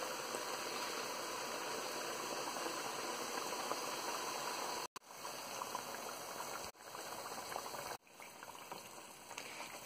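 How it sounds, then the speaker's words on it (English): Jackfruit pakodas deep-fry in hot oil over a medium flame, giving a steady, close hiss and fine crackle that is broken by brief dropouts. "the pakodas are frying, and keep the flame in medium"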